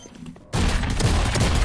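Gunfire in the video game Valorant cuts in abruptly after a brief quiet lead-in, a loud, dense, sustained burst of shots close up.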